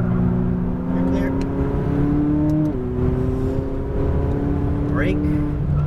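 Steady engine drone from a McLaren 570S sports car on a racetrack, holding a sustained pitch with a brief dip as it shifts, continuous and fairly loud throughout, with an instructor's voice talking over it.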